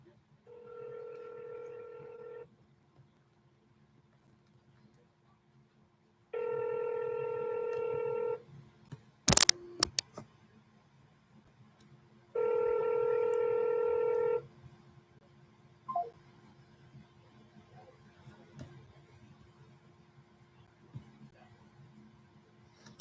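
Telephone dialing tones ring out as homeowners are called by hand: three separate sustained tone bursts a few seconds apart, with a sharp clatter between them and faint background hum in the quiet gaps.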